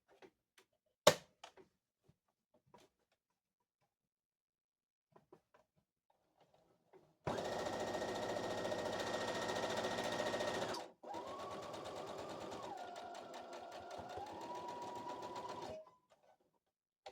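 Sewing machine double stitching a seam on curtains: after sparse faint clicks, two close bursts of steady motor whir run several seconds each, separated by a brief pause, with pitch shifting slightly in the second run.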